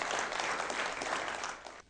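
Audience applause in a television studio during an Azerbaijani TV game show, a steady dense clapping from a crowd that holds at an even level before tapering off at the very end.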